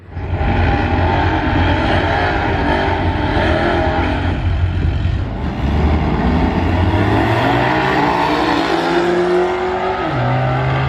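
Xander 13 drag car making its first pass at Music City Raceway, a loud, continuous engine roar that climbs steadily in pitch through the gears, then dips with a brief gap and surges again.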